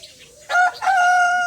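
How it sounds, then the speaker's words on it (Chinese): A rooster crows once in a loud, drawn-out call that starts with a short rising burst and then holds a long tonal note, close by, with no talk over it. "这又来了一个大公鸡。"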